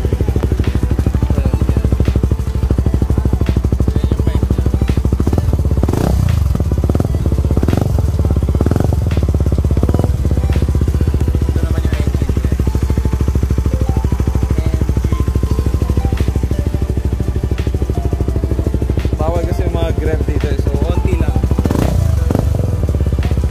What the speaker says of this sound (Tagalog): marinig natin yung idle niya sir